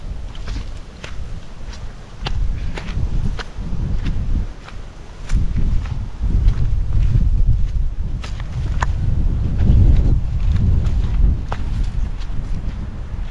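Strong December wind gusting outdoors on rural land, heavy low rumbling buffets against the microphone that surge and ease in waves, with scattered sharp clicks and rustles.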